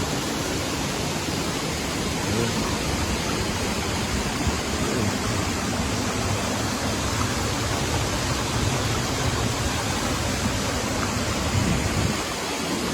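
Kasabangan Falls on Biliran Island in the Philippines pours in a steady, dense roar of falling water, broadband and unbroken for the whole stretch, close and loud with no voices.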